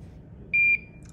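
A single electronic beep from an infusion pump alarm check, steady and high-pitched, lasting about a quarter second over a low background hum.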